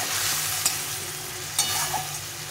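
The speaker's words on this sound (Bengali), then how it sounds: "আলুটা আমি প্রথমে ভেজে নিই" Raw potatoes frying in a pan of oil for a fish curry, a steady close sizzle with a couple of brief stirring clicks, no voices.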